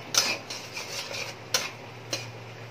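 Spice paste for a Bengali raw jackfruit and prawn dish being stirred and fried in a pan, a few sharp spoon taps and scrapes against the metal over a low sizzle and faint hum, close and fairly quiet.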